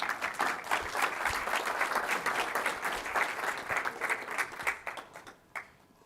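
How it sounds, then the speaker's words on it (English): Audience applause at a Microsoft conference business session, a dense steady wash of many hands clapping for about five seconds, then thinning out and tapering off near the end. "Another round of applause for Siffat."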